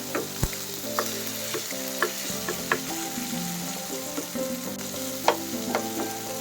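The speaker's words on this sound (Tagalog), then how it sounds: "lulutuin lang natin masyado yung ating kamatis" Tomatoes fry in a pan with a continuous close sizzle and crackle, broken now and then by light knocks of a utensil and a low steady hum behind it.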